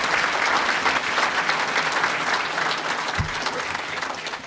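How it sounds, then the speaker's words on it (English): An audience at a sports hall of fame enshrinement banquet applauds, a dense, steady wash of clapping from many hands that goes on for the whole stretch and fades only slightly toward the end. "Let's have a round of applause, please."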